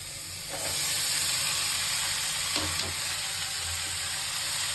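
Mixed vegetables coated in ginger-garlic paste fry in a pan, giving a steady, broad sizzling hiss with a few soft stirring knocks near the start and no voices.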